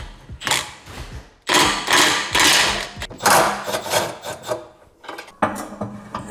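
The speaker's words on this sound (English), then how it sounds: "now I gotta remove the bushing bolts right here." A hand ratchet works loose the rear sway bar bushing bolts under an Acura TSX, giving bursts of rapid rasping clicks in several close, loud strokes with brief pauses between them.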